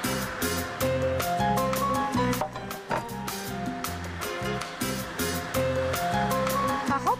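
Batter for Egyptian goulash cake is beaten with a mixer after melted butter or ghee goes in, giving a continuous, close, rhythmic whirring and churning with no talk over it.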